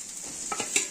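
Potatoes fry with cumin, coriander and Kashmiri chilli powder in a pan for chana dal, a steady sizzle with a few short stirring scrapes over one second.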